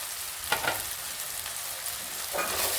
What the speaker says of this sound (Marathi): टोमॅटो परतले बघा, त्यामध्ये मसाले टाकून घेऊ